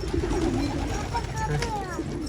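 Wild pigeons coo softly on a street amid a busy outdoor background with a low rumble, the birds fairly close but not loud.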